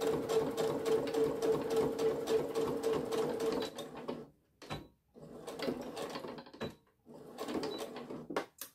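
A sewing machine runs a final line of topstitching on a fabric phone pouch, a steady fast mechanical whir in bursts with two short pauses, close and fairly loud with no talking.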